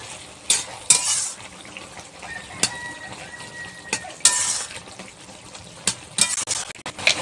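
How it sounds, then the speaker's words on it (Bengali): A spoon scrapes and stirs eggplant and potato ghyat in a pan, with sharp intermittent clinks against the metal over a soft steady sizzle, close and alone with no talk. "ঢাকনাটা দিয়ে এবার একটু নেড়ে ফেলে দেবো"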